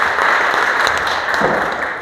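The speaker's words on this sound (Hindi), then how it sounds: "एक बार आप लोगों के लिए जोरदार तालियां।" Applause from an audience at a workplace safety day program, a dense steady clapping that fills the room at close range and holds loud for about two seconds.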